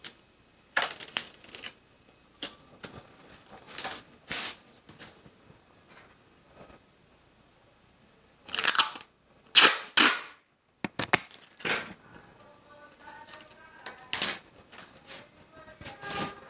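Sticky tape is pulled from a roll and pressed onto a paper sewing pattern in sharp, scattered rips and crackles, close and fairly quiet, with faint background sounds between them.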